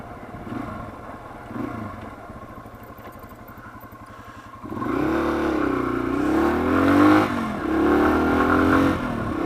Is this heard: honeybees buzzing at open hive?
no